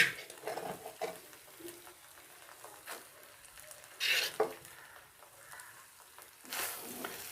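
Grated carrots being stirred in a pan for gajar barfi, with scraping strokes and a soft sizzle. Several louder clattering scrapes stand out against a steady quiet frying hiss.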